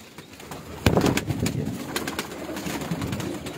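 Teddy pigeons coo on a rooftop, producing repeated soft throaty coos at a moderate distance. A sharp knock near the start is followed by faint ambient noise.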